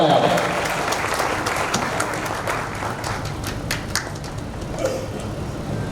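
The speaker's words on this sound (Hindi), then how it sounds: "तालियों से इस्तकबाल फरमाया" Sustained, loud applause from a large audience at the Talent Award Barwani 2024 ceremony, dense clapping filling the whole stretch with a few sharper claps standing out and crowd murmur underneath.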